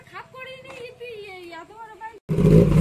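A motorcycle engine starts with a sudden loud roar and revs briefly at the very end, right after a stretch of close talking.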